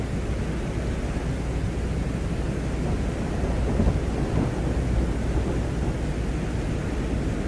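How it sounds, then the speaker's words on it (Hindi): Wind and thunder on Venus recorded by a Venera lander: a dense, continuous roaring rumble like a heavy storm, steady throughout with a slight swell in the middle. "इतने टाइम में इसने वीनस में चलने वाले हवाओं और कड़कड़ाती बिजली की आवाज रिकॉर्ड करी थी"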